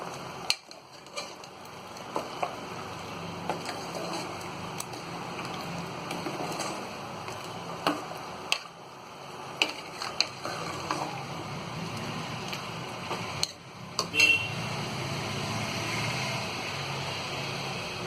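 Ginger garlic paste sizzles and is stirred in a frying pan for mutton haleem, a continuous close crackle broken by scraping and clinking strokes of the spoon, with no talk.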